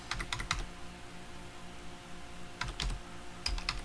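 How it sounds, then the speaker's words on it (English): Someone types on a computer keyboard in short bursts of quick key clicks, with a pause between the bursts, all close and fairly quiet over a steady low hum. "you can just type 444"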